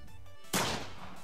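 A single sharp gunshot effect from a homemade video game fires once, abrupt and loud, then fades into a brief noisy tail with no talk.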